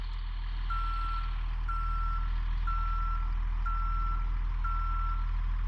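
Reversing beeps of a Blue Bird A3RE school bus in a driving video game, five evenly spaced electronic tones over a steady low diesel idle, clear and close with no talking.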